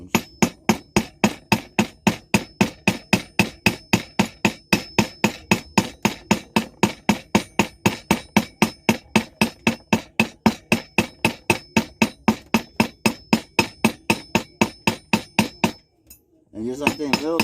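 Rapid, steady hammer taps on metal jacks being smoothed, about forty sharp ringing strikes at an even rhythm, close and loud, stopping near the end as a brief voice is heard.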